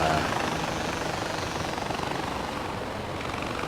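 Helicopter in the video game Far Cry 4, a steady loud rotor whir and engine drone filling the whole moment without a break.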